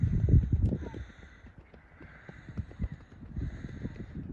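Several horses running loose on open ground, their hooves pounding in uneven, overlapping clip-clop beats at close range, with no talking.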